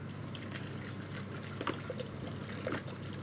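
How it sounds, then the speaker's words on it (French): Water poured into a bowl while preparing a white asparagus and radish bavarois, a soft steady trickle with a few drips, close and fairly quiet, no talking. "On met l'eau."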